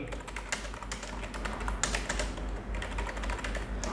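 Steady, close typing on a computer keyboard as a search query goes into an online keyword research tool, rapid irregular key clicks with a few sharper taps and no talk.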